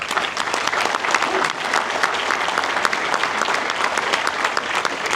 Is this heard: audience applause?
yes